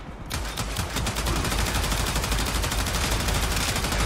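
A Gorgon heavy gun in Warframe fires in one long, fast stream, the rattle loud, close and unbroken after a brief spin-up.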